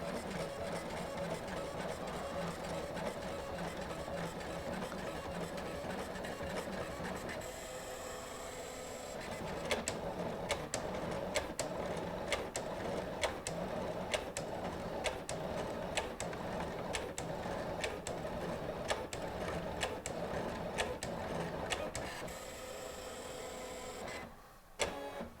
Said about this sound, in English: We're going to go ahead and send to the Silhouette and we'll cut it and we'll be able to test that bezel.